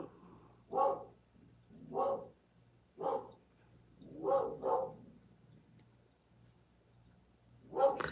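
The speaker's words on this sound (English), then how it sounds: "I hear a dog barking." A dog barks about six times at irregular intervals, moderately close, with a low steady hum underneath and no talking.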